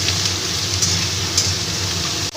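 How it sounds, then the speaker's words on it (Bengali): Chopped vegetables for a stew fry in a pan with salt and turmeric, giving a steady, close, even sizzle throughout with no one speaking. "স্বাদ মতো নুন দিয়ে দিচ্ছি আর একটু হলুদের গুঁড়ো দিয়ে দিচ্ছি দিয়ে আমি এগুলোকে ভালো করে একটু ভেজে নিতে"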